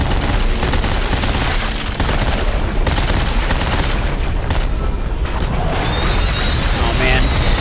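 Dense machine gun fire and booming impacts in the shooter game Dead Space 3 fill the whole stretch loudly, with a voice speaking over the chaotic battle noise.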